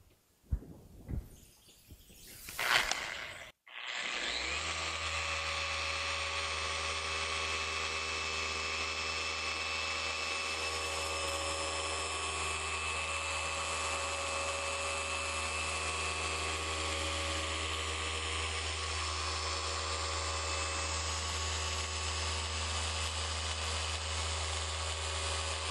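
A Chemical Guys dual-action polisher working car paint at speed setting 6 gives off a steady, loud mechanical whir with a constant low hum, running unbroken after a few seconds of handling noise at the start.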